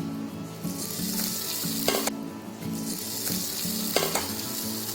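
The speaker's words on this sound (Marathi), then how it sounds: "आता त्याच्यामध्ये बटर टाकते. आता याच्यामध्ये ब्रेड टाकते." Bread frying in butter in a pan for French toast, a steady loud sizzle with occasional clinks and scraping stirs throughout.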